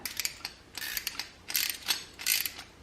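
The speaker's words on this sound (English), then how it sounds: "Then I'm going to be using my 2 ratchets" Two ratchets tighten sleeve nuts on the wheel plate of a wooden rolling library ladder, giving close, crisp bursts of rapid clicking in several short pulls with brief pauses between them.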